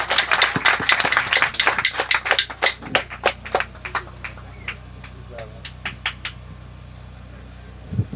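A church congregation claps and applauds at a Baptist church service. Dense, loud clapping comes first, then thins into scattered, sparser claps that fade toward quiet.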